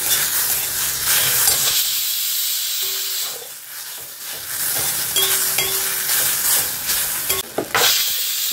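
Ginger garlic paste frying in a little oil, a steady loud hiss and sizzle with stirring scrapes throughout and a few brief squeaky tones from the pan.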